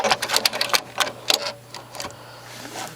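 Sewing machine stitching quilt binding in quick bursts of rapid mechanical clatter, close and clear, pausing briefly between runs before a softer final burst.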